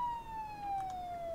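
Siren in the video game Project Zomboid, a single steady wailing tone slowly falling in pitch, moderately loud, with faint background noise and no speech.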